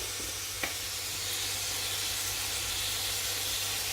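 A seasoned West Indian mixture for stewed king fish fries in a pot, sending up a steady, moderate sizzle and hiss with one small clink early on; no one speaks.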